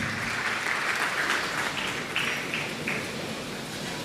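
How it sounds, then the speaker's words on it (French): A church congregation applauds steadily throughout, a dense wash of clapping hands filling the room without a break, with no talk over it. "Acclamons la parole du Seigneur."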